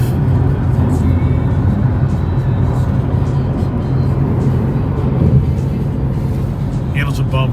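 Inside a 2020 Ford Mustang GT500 on the move, a steady low engine drone and road noise fill the cabin at a constant level.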